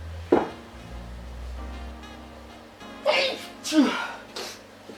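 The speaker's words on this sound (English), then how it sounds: "I'm really sorry, I'm sneezing at the moment." Several sneezes, one sharp sneeze early and two or three more later, close to the microphone, amid quiet room noise.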